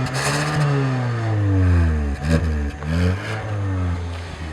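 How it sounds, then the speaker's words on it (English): A 2015 Hyundai Sonata Turbo with a front-wheel-drive six-speed automatic revs loud and close, its engine note rising and falling in several sweeps across the stretch. "Yep, sounds like a Hyundai, doesn't it?"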